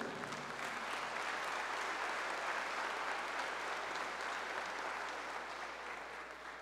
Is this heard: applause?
yes